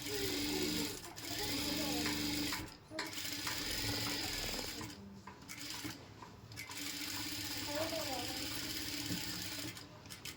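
A sewing machine stitches a chudidar top's fabric in bursts of rapid mechanical whirring, pausing briefly between runs, with someone talking over much of it.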